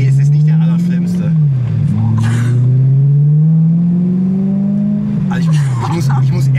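A car engine revs hard while accelerating, a loud droning tone that climbs, dips briefly for gear changes and climbs again, with people talking over it in the car.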